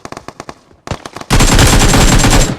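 Scattered video game gunshots crack out, then a loud, sustained burst of rapid automatic gunfire takes over and keeps going without a break.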